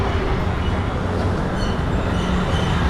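Train at Curry Road railway station in Mumbai, a loud continuous rumble of rolling wagons and wheels on track, close by and unbroken, with no voices.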